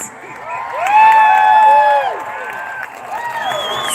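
Large outdoor freedom rally crowd in Adelaide's city centre cheering and whooping loudly, a sustained roar swelling for about a second and easing slightly, with scattered shouts and whistles over dense crowd noise.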